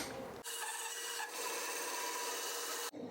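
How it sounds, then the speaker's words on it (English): Handsaw cutting through a fork of green tree wood for a slingshot, a steady close, dense rasping stroke that runs continuously for over two seconds without talk. "I'm gonna have to cut this out the rest of the way with my just my handsaw"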